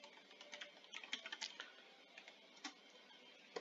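Keys clatter on a computer keyboard as a command is entered: quiet, irregular bursts of close keystrokes, a few clustered quickly and then spaced out, alone in a hushed room.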